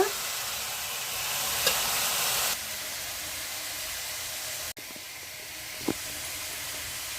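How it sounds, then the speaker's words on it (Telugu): Country chicken fries in a hot pan with a constant loud sizzle and hiss, close by, broken by a few brief stirring scrapes and a short clack. "బాగా వేయించేసుకుందామండి ఎర్రగా వేగిపోవాలి"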